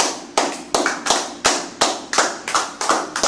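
A congregation at a French-language church service claps together in a steady rhythm, about ten sharp, loud claps that ring out close and clear, with no talking over them.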